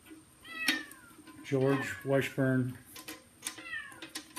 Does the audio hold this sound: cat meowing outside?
yes